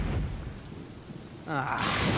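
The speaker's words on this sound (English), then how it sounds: "Lightning storm!" Thunder rumbles and rain pours in a video game storm, a low roll swelling into a louder, hissing burst of rain near the end.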